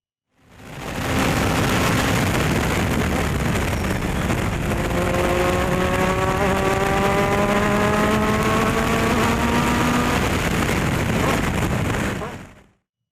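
Race car engine at full throttle on the Buttonwillow track during an October 2019 race, pulling away after a launch: a loud, sustained, close engine roar climbing in pitch as it accelerates, with no talking over it.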